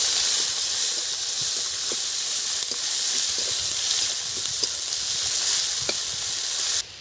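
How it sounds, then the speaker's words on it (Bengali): Dried chillies, cumin, bay leaves and onion frying in hot oil make a loud, close sizzle with scattered crackles and pops, steady for several seconds before it cuts off abruptly near the end. "তেল গরম হয়ে গেছে, 2 শুকনো লঙ্কা, জিরে, 2 তেজপাতা আর পেঁয়াজ দিয়ে দিচ্ছি।"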